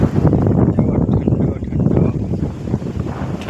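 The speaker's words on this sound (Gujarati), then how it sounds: "જો ઠંડો વાવડો આવે છે." Cold wind blowing outdoors among jamun trees heavy with ripe fruit, a steady low rumble that buffets the microphone for the whole stretch with a gusty, uneven roar.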